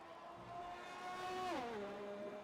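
Race car on the Monza circuit braking into the Ascari corner, its engine note dropping sharply in pitch as it downshifts and then settling, a single car heard faintly at a distance.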